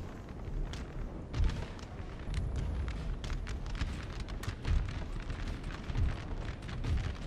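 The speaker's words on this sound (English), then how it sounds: "I've never fired canister shot with howitzers" Howitzers fire canister shot in Napoleon Total War, a dense barrage of booms and crackling bursts rolling continuously, with heavier thumps standing out every second or two.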